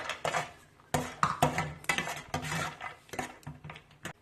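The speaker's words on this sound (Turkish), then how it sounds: "Ayrı bir tavada bir çorba kaşığı bademle kavuralım." A tablespoon of almonds roasts in a separate pan for almond pilaf, rattling and clinking against the metal as a utensil stirs them. The sound comes in close, irregular bursts with no talking.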